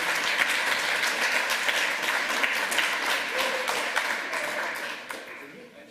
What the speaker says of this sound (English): Another round of applause for Woz, everybody.